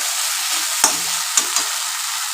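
Pieces of pointed gourd frying in hot oil give a steady, close sizzle, with a few sharp clinks of a utensil against the pan and no talking.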